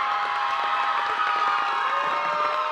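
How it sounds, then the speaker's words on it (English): A high school volleyball crowd in a gym in Algona cheers and shouts as the teams take the court, a dense, steady roar with youthful shouting throughout. "You can hear the crowd reaction"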